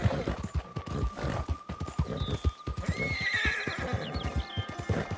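A horse in the Red Dead Online video game whinnies loudly mid-way while steady clip-clop hoofbeats thud rhythmically throughout, close and clear with no talk.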